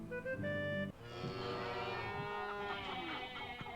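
Cattle mooing in the King of Dragon Pass video game: a long, loud, drawn-out moo with a wavering tone, following a brief sustained game tone at the start.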